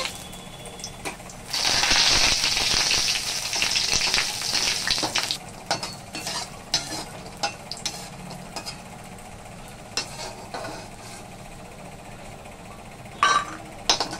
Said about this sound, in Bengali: তেল দিলাম, কটা বড়ি ভেজে নিচ্ছি।